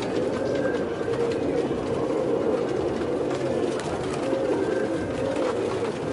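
Pigeons coo softly amid a steady, low background hum, with the murmuring calls repeating throughout.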